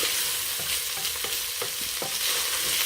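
Browned hamburger meat being stirred in a pot, with a steady soft sizzle beneath repeated scraping strokes of the spoon at a loose, uneven rhythm, close and moderately loud, no voices.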